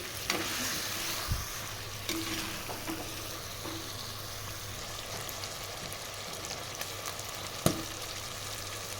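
Mutton curry frying with mint leaves in a pan, a steady close sizzle running throughout, broken by a few scraping stirs and light clinks.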